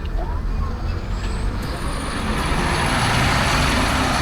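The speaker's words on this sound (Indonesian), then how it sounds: "Bis nomor 2 keluar." Mata Trans Jetbus 5 bus pulling out, a loud close engine rumble with air-brake hiss and a rising whine building steadily throughout.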